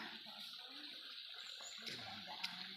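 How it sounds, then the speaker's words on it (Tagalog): A stream flowing along a walking path in a park in Arayat, Pampanga, a faint, steady watery rush with no speech. "At ang sapa. Mahiwagang sapa."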